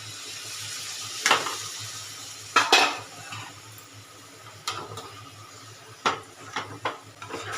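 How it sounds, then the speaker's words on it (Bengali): A spoon clanks and scrapes against a metal pan while chicken is stirred with spices and a little water, the irregular knocks close and crisp over a quiet background hum. "এতে চিকেনটাকে ভালো করে এর সাথে মিশে যায় মশলার সাথে নাড়াচাড়া করে চিকেনটা বানিয়ে নিচ্ছি"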